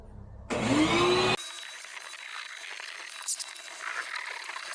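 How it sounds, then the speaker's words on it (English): Vacuum cleaner working inside a Honda Fit being cleaned out for a micro camper build, a brief loud roar as the nozzle sucks up debris, then a steady, quieter whine running on alone. "I guess it's time to vacuum all this crap up"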